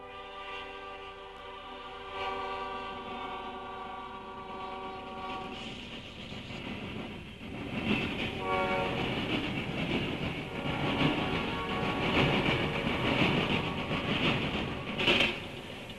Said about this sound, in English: the Central was being pulled by an Locomotive E7B unit sandwiched between two